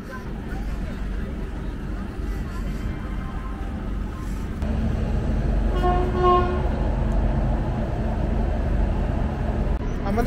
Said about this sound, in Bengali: আমাদের ট্রেন এসে পৌঁছালো পাঞ্জাবের পাঠানকোটের 2 নম্বর প্ল্যাটফর্মে